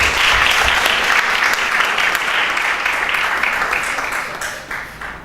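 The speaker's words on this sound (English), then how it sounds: "Please give a round of applause." Audience applause rings out steadily at a reading competition final, a dense wash of many hands clapping that holds strong throughout and eases only slightly toward the end, with no voices over it.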